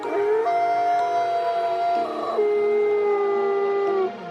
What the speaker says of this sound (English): A wolf howl came from the top of the hill.